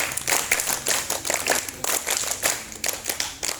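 Students at an archery training session at an Islamic junior high school clap together in short bursts of quick claps, the rhythm somewhat loose and uneven, loud and close with no voices over it.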